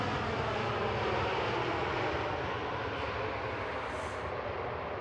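An EasyJet Airbus A320neo rolls out on runway 05 at Manchester Airport, its jet engines making a steady, broad roar that holds level throughout, heard from a distance with no voices.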